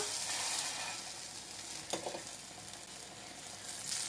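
An Adirampattinam prachappam frying in oil on a pan, a soft but steady close sizzle with a brief louder crackle midway and no talking.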